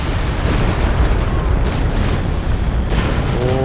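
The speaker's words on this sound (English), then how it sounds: "Maybe a tiny bit late on the Katyusha rockets." Katyusha rocket artillery barrage in Company of Heroes 2, heard as a dense, continuous rumble of booming explosions that stays loud throughout, with no clear gaps between blasts.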